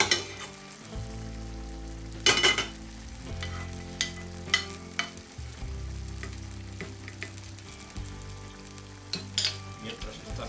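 Half a dried chili pepper frying in oil in a pan, with a continuous crackling sizzle and occasional clattering scrapes of a spatula against the pan.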